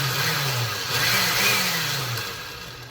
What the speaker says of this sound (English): now I have placed the chili pods in the blender, and I'm going to blend them